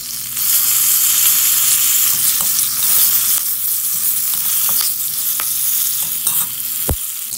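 Curry leaves dropped into a hot tempering of lentils for barnyard millet curd rice, giving a loud, close, steady sizzle with scattered crackles and one sharp pop near the end.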